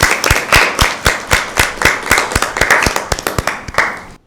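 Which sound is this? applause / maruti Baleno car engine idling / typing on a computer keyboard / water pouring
applause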